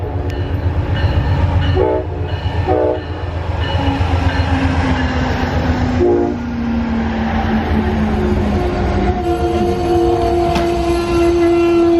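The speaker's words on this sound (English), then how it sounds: "the train comes in" An Amtrak passenger train with two locomotives rolls into a small New Hampshire station, its loud rumble and wheel clatter close by, horn blasts sounding several times and a sustained tonal whine rising near the end.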